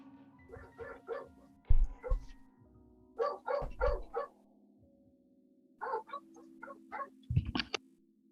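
A neighbour's dog barks in short bursts of two to four woofs separated by pauses, moderately distant over a steady low hum, with no talk.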